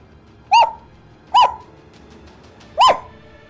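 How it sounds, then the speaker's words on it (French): Three short, muffled dog barks, spaced unevenly against a quiet background. "c'était un cri de chien étouffé"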